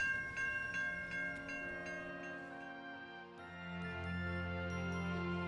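A freight train's last cars roll through a grade crossing in Chicago, with sustained ringing crossing bells and a low rumbling rail drone that swells toward the end.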